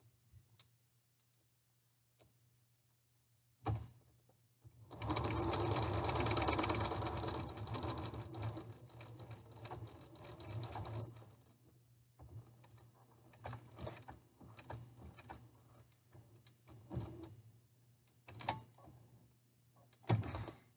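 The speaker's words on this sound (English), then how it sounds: "You're going to start sewing. You're going to back tack over here to make a good strong lock." A sewing machine stitches and back tacks an isolation gown sleeve, a loud steady run of several seconds followed by shorter bursts of stitching and scattered clicks and handling noises.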